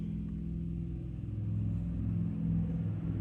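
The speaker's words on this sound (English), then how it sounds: "That was a loud truck." A loud truck passing outside, a deep steady rumble that swells slightly toward the end as it goes by, heard alone without talking.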